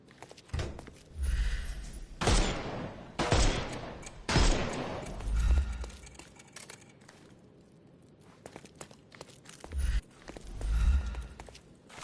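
Gunfire in the detective game Sherlock Holmes Chapter One: several sharp, loud shots at uneven intervals, some in quick pairs, each with a heavy booming tail, then a lull before a final couple of blasts.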